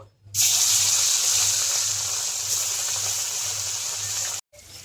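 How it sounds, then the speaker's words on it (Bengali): Marinated rohu fish, cooked in a Kashmiri style, dropped into hot oil, bursting into an instant loud hiss that holds steady and bubbling for about four seconds before cutting off abruptly. "এবার আমি দিয়ে দেবো মাছ ভাজার জন্য।"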